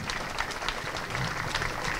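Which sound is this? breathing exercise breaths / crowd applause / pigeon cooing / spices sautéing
crowd applause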